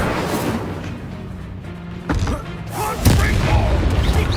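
In Hogwarts Legacy, an Incendio fire spell lands with booming bursts over a continuous rumbling battle din, with two sharper hits close together toward the end.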